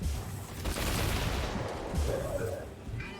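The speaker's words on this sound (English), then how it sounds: "Incoming fire. Oh god, somebody's shooting at me." Incoming gunfire in an online shooter, a dense rattling fusillade of shots at moderate distance that keeps going without a break, with a few heavier thuds mixed in.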